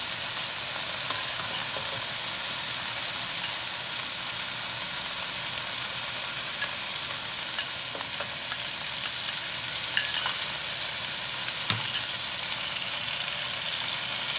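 Sauce going into sizzling stir-fried emperor vegetable in a hot pan, with a steady, dense hiss of frying throughout and a few faint clicks and taps of utensils.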